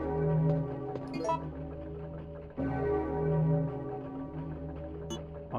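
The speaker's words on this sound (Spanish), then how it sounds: "Y suena la campana del reloj." A clock bell in Resident Evil 3 rings twice with sustained resonant tones, each strike decaying slowly, preceded by brief mechanical clicks from turning gears.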